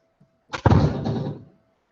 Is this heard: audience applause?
no